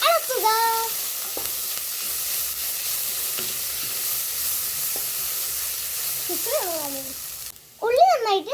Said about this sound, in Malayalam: ഇഞ്ചിയും വെളുത്തുള്ളിയും ചതച്ചത് ഇടുക. ഇനി നന്നായി ഇളക്കുക.